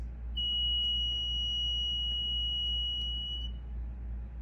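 A small bistable circuit controlled by a dial emits a steady, piercing electronic beep-like tone. It sounds for about three seconds over a low background hum, then cuts off.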